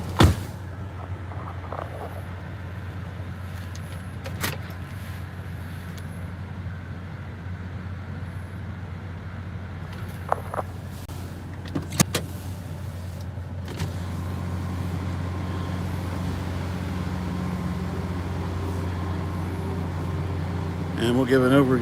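A car driving through Hurricane Sally at Gulf Shores, Alabama, with a steady low cabin rumble of engine and road noise and occasional sharp knocks and clicks inside the vehicle.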